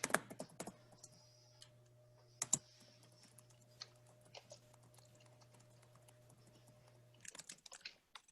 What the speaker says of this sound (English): Let me type as well.